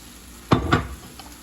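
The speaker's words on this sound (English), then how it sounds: "Stir it well." Tomato flesh and kale being stirred in a pan, two short, close scraping strokes in quick succession over a quiet background, with a faint clink afterward.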